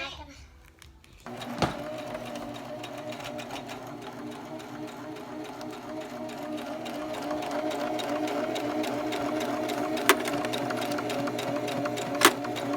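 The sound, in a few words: sewing machine stitching fabric finger pants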